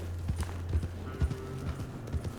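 Video game horse hooves in Red Dead Redemption 2 clop at a steady walking pace on a dirt trail downhill, fairly quiet, with a low hum beneath.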